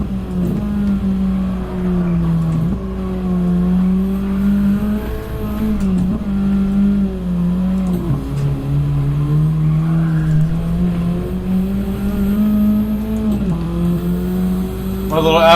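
An Audi race car in a racing video game drones at high revs, its pitch rising and falling through gear changes and sudden drops. Someone talks over the steady engine sound throughout.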